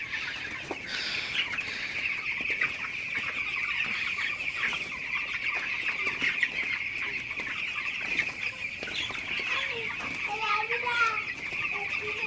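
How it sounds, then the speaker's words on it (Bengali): Broiler chickens on a farm cluck busily at afternoon feeding time, a dense, continuous chorus of overlapping clucks and chatter, with occasional louder calls and light wing flutters. "বিকাল টাইমে আমি হচ্ছে ব্রয়লার মুরগিকে খাবার দিয়ে দিলাম"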